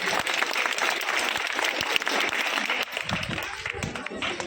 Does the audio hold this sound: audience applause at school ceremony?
yes